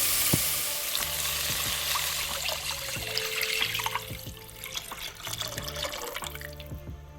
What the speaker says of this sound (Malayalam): ആവശ്യമുള്ള വെള്ളം ഒഴിച്ചു കൊടുക്കുക